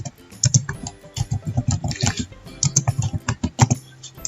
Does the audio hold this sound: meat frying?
no